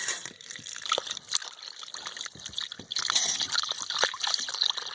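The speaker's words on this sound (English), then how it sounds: "we're pushing a piece of pipe that's got a closed end on it in there to force some of the water out" Water gushes and sloshes in bursts out of a well pipe as a closed-end pipe is pushed in, with gurgling and dripping close by, no talking.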